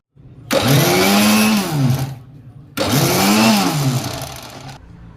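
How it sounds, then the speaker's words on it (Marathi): Mixer grinder blending rava ladoo mixture with cardamom powder, two loud close bursts of whining motor of about two seconds each, separated by a short pause, with no speech. "आता आपण याला मिक्सर मध्ये काढून घेऊया।"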